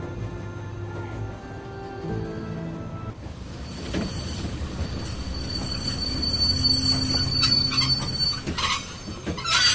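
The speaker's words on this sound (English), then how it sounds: "The train's stopping." A train in The Walking Dead video game brakes to a halt, its wheels squealing in sustained high metallic tones over a rumbling rail roar that builds louder across the stop.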